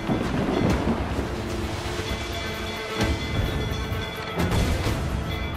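Ship cannon fire in Assassin's Creed IV Black Flag, a series of deep rumbling booms, three or four heavy blasts rolling over a continuous background of sea and wind.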